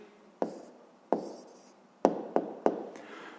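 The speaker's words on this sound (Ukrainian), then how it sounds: "давайте запишемо тоді відповідь" A pen writing an answer on paper during a fifth-grade maths exercise: five distinct close strokes or taps spaced irregularly over a few seconds, each a short scratchy burst with a quick decay, with no voices.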